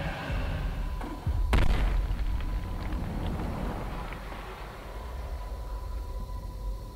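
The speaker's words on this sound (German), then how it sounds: "Gut, dass der brennende Wagen voll Sprengpulver erst explodiert, wenn ich das Ding ans Tor ranramme" In the video game Middle-earth: Shadow of Mordor, a burning wagon loaded with blast powder rammed into a gate explodes in a single sharp boom, followed by a rumbling, crackling tail that fades over several seconds.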